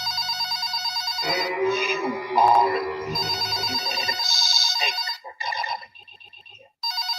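A telephone rings inside a video game in bright, repeated electronic trills that start and stop in bursts, loud and close, with game sounds and a brief voice in between.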